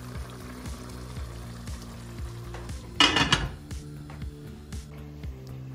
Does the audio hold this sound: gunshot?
no